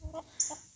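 Hens clucking in a coop as they are shut in for the night: a couple of short, soft clucks, then one sharper, higher call, close by and with no talking.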